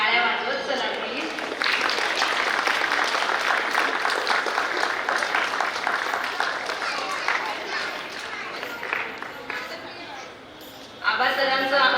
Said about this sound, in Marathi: टाळ्या वाजवत चला प्लीज